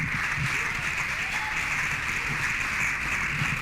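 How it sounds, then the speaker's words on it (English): An audience at an art and culture event applauding the women in the room, a steady, moderately loud round of clapping with a faint murmur of voices beneath it. "Let's give them a round of applause."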